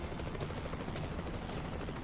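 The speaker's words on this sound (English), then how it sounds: "The sound of the helicopter were coming closer." An approaching helicopter in a visual novel game gives a faint, steady, whirring broadband drone that runs evenly through the whole stretch, with no speech.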